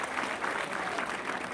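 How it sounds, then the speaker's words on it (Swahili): An audience claps at a Kenyan public gathering, producing a short, steady burst of moderately distant applause with no voices. "Pigia makofi."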